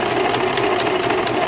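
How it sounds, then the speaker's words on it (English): A sewing machine stitching fabric runs in a steady, continuous mechanical whir, close and loud throughout with no pauses or talking. "So when you sew, you just run it through the machine."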